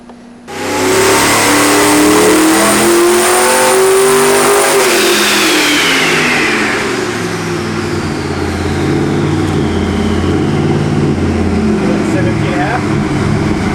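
Twin-turbo 632 engine revving hard on a dyno, a loud close roar that climbs in pitch, peaks, then drops into a sustained heavy drone with turbo whine, with people talking over it.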